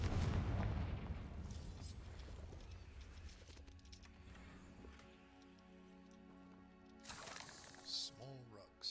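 A Confringo fire spell explosion in the Hogwarts Legacy video game opens with a loud, booming blast that rumbles and fades, followed by softer magical effects and a few later bursts.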